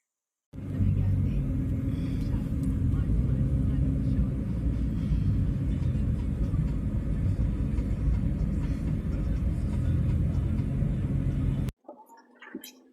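Rented car driving along a road, a steady low engine and tyre rumble that starts abruptly and holds constant for about eleven seconds before cutting off.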